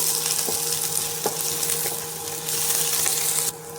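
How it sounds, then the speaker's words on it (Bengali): Chopped onions and a dried red chilli frying in hot oil give a bright, steady sizzle with a few light scrapes and taps of stirring, close and fairly loud, with no talk over it. "পেঁয়াজটা এখানে একটু ভালো করে ভেজে নেব"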